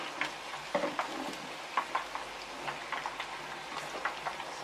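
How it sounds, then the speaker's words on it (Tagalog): Thick pork belly for lechon kawali deep-fries in hot oil, a steady close crackling sizzle dotted with sharp pops and spatters, with no voices. "So we need to fry a little bit longer"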